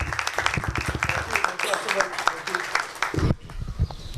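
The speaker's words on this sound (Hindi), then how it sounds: "एक बार फिर ताली बजाएं" An audience at a Christian gathering with families and children claps, a dense patter of applause mixed with voices that stops abruptly after about three seconds.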